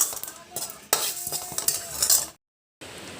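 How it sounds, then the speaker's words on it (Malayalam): Mustard, fenugreek and cumin seeds toasting in a pan for mango pickle, with a spoon stirring and scraping in repeated bursts of gritty rattling and faint sizzle, close by, then a short silence and a quieter scrape. "കടുകും ഉലുവയും ജീരകവും ഒന്ന് ചൂടാക്കിയെടുക്കാം ഇപ്പം ചൂടായിട്ടുണ്ട്"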